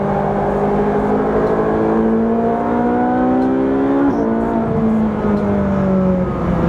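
A Ferrari 458 Speciale on a race track, its engine screaming loud and close as it accelerates through the gears, with rising whining harmonics, a brief dip and shift near the middle, then pulling hard again.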